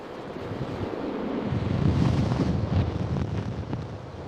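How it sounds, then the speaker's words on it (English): Steady outdoor wind rushing across a microphone, swelling midway with a low ocean-like roar beneath it, no voices. "You hear the wind, you hear some background noises."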